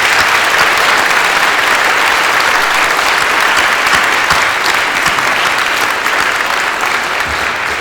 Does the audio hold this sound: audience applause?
yes